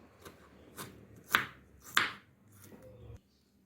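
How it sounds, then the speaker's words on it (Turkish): A few sharp knife chops of garlic cloves on a cutting board, two louder strikes standing out among softer taps, close and with no talking. "5 diş sarımsağım var. Onu da küçük küçük doğruyorum."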